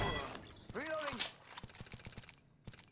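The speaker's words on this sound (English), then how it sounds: "So purple armor broken." Purple armor shatters in an Apex Legends gunfight, a sharp glassy break amid rapid gunfire clatter and game effects, while a player talks over the action.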